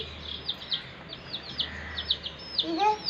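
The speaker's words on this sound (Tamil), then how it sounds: "இது என்னோட கோழி" Pet colour chickens at home give quick, high peeping chirps, several short calls in an uneven rhythm over soft background noise, close to the microphone.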